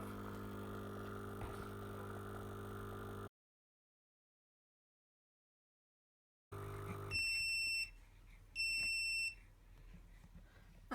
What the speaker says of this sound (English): the final beep means it's finished.